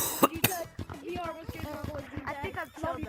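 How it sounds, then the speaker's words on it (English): A gamer streaming Gorilla Tag in VR lets out two sharp, close coughs near the start, then talking continues over the rest. "I just have a cough"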